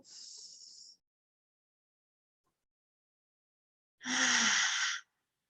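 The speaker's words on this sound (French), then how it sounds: "Inspire encore par le nez. Expire tout." Deep breathing close to the mic: a long, steady inhale through the nose, a pause of silence, then a fuller, louder exhale lasting about a second.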